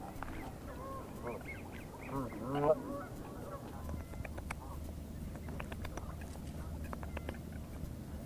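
Geese honk nearby outdoors, a cluster of loud honks in the middle and scattered calls after, while someone talks over a low rumbling background.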